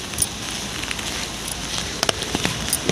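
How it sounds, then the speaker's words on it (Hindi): Heavy monsoon rain pours steadily on a waterlogged road in Ranchi, a dense continuous hiss with scattered louder drops and spatters, close and fairly loud throughout. "इतनी बारिश हो रही है ना, पूरा पानी इकट्ठा हो गया है जगह जगह पे।"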